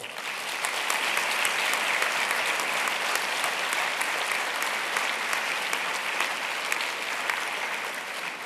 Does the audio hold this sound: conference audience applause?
yes